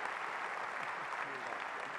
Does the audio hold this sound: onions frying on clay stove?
no